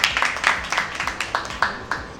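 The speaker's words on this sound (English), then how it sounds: "So let's give a round of applause to Harvey Ong, the COO of Alphamart." A small audience claps at an awards press conference, a thin patter of scattered hand claps with uneven rhythm, fairly close and modest in volume, with no voice over it.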